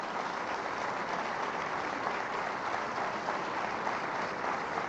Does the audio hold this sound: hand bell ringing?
no